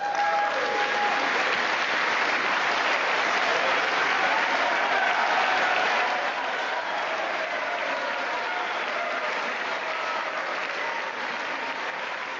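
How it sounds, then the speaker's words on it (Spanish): Sustained applause from lawmakers in the US Congress during a State of the Union address, a dense steady roar of many hands clapping that runs throughout and eases slightly toward the end. "Otro momento donde vimos que republicanos y demócratas aplaudieron juntos fue cuando habló de la reforma migratoria"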